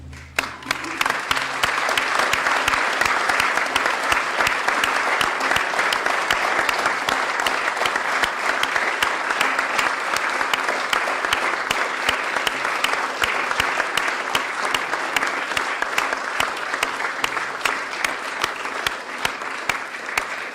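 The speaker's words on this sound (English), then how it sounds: "give everybody a round of applause" A council meeting chamber fills with steady, sustained applause from a seated group, clapping continuously at an even level for about twenty seconds.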